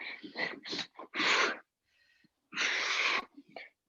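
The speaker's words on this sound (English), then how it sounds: "Lots of breathing noises on our side." Heavy, noisy breaths puffing out in a series of loud bursts during an upper body workout, with short pauses between them and longer sustained exhales.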